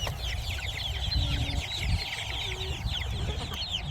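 Hens on a farm keep up a busy chorus of overlapping clucks and short squawks, close and continuous, with a few brief low calls mixed in.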